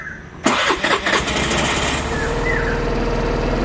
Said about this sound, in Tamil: இப்போ வண்டி வந்து ஆன் ஆகுது ஸ்டார்ட் பண்ணி பார்த்துருவோமா